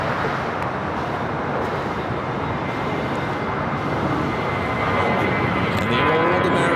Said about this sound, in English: And the old America West A319 heading to St. Louis.